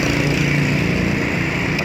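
A Rebel NC170 motorcycle with a water-cooled engine and radiator fan runs steadily, a loud, close, continuous rumbling drone with no pauses.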